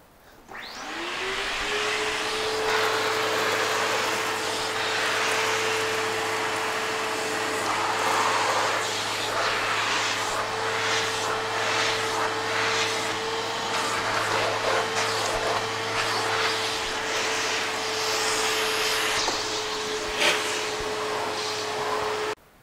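A Sanitaire Force SC5745 bagless commercial upright vacuum cleaner whirs up to speed and runs with a steady loud motor drone and airflow hiss, accompanied by intermittent rustling and bumping as it is pushed along.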